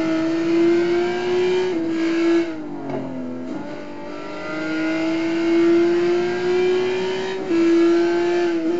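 A Ferrari F550 racing around the Nürburgring in a driving game, its engine a loud, steady drone that holds pitch, dips sharply as the car slows for a corner, then climbs back up under power.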